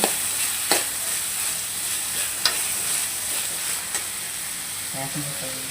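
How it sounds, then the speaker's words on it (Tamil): Chopped country tomatoes sauté with softened onions in a pan, a loud continuous sizzle and hiss punctuated by a few sharp stirring clicks, with a faint voice near the end. "இப்போ வந்து தக்காளி ஆட் பண்ணிக்கலாம் தக்காளி ஆட் பண்ணியாச்சு"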